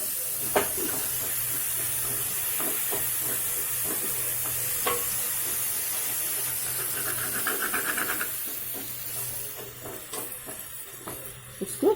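Tomato puree frying in a spiced cumin and chili masala, a continuous close sizzle and hiss with intermittent spoon scrapes and stirring, growing busier and louder toward the end.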